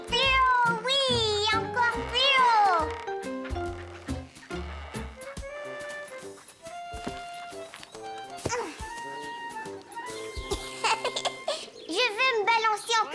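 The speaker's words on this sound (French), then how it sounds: "Caillou avait peur du chat en colère" In a Caillou cartoon, an angry cat meows with sharp, wavering cries and bursts of hissing, set among children's voices and cartoon music.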